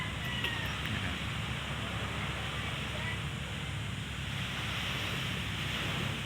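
Steady rushing wash of ocean surf with a windy, broadband roar that never lets up, constant and fairly loud throughout.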